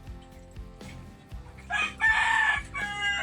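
A rooster crows once, loud and close, its drawn-out call rising over low background noise and some earlier faint clucking.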